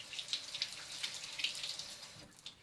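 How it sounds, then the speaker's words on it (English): Hands are rinsed under running tap water in a kitchen sink while cooking, a soft, close, steady splashing stream with small spatters and no talk. "Back over, wash my hands again."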